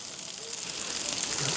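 Fish steaks sizzle on a grill with a steady, fairly quiet hiss of frying that runs continuously without pause.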